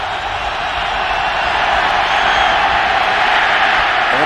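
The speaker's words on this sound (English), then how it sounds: "Crowd stomping their feet with 7 minutes remaining." A stadium crowd stomps its feet late in a 2006 Bengals at Broncos NFL game in Denver. The result is a loud, steady roar of massed noise with a low rumbling underneath that holds without pause.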